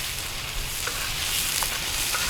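Funchoza noodles frying on a sadj pan outdoors, giving a steady close hiss with a few faint clicks and scrapes and no talk.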